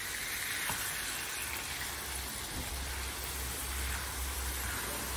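Kofta frying in a pan gives a steady, dense sizzle throughout, an even crackling hiss with no pauses, close and fairly loud.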